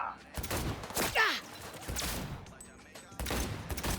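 Rapid gunfire crackles from Cyberpunk 2077 combat, several bursts of shots spread across the moment, moderately loud, mixed with game effects and a few brief vocal sounds.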